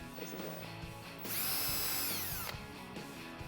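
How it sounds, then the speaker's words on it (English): A power drill with a 3/16 inch bit bores a pilot hole during a Jeep Wrangler JK hard top hoist install, a rising whine lasting about a second amid quiet handling noises. "what we want to do is drill a hole for our pilot hole. I'm going to be using a 3/16 inch drill bit"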